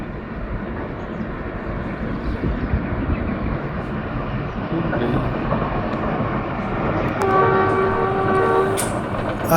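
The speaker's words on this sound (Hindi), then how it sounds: "आखिरकार बहुत ज़्यादा देर इंतज़ार करने के बाद जाफ़र एक्सप्रेस इस वादी में दाखिल हुई।" The Jaffar Express passenger train rolls through a curving valley in a continuous rumbling wash of wheels and carriages, with a horn-like tone sounding near the end.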